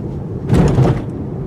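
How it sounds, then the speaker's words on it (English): A single heavy thump as a 2017 Lexus NX200t rolls over a speed bump at about 20 mph, a low muffled jolt rising out of steady road and engine rumble. "Loud thump, but didn't feel too much."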